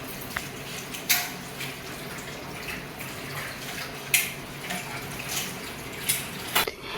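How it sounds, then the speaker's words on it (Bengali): Salted chopped vegetables for momo filling being squeezed by hand to wring out their water, soft wet splashes and drips in uneven bursts, close and fairly quiet. "এবার হচ্ছে ওগুলো একদম পুরো জলটা নিংড়ে বের করে নিতে হবে"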